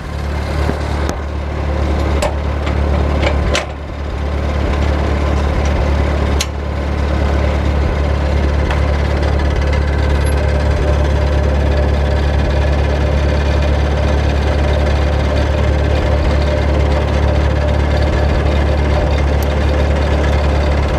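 An IH Super MTA tractor engine runs at a steady idle, a loud low rumble with a knocking throb that continues throughout.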